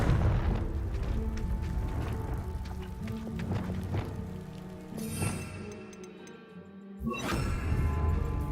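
A Confringo spell explosion in the video game Hogwarts Legacy, heard as booming, crashing bursts over a dense musical score, with a sharp blast near the end after a brief lull.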